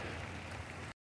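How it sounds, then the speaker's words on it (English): Light rain sprinkling outdoors in Florida, a soft, even hiss of patter heard alone for about a second before cutting off. "It starts raining when we're ready to friggin' paint."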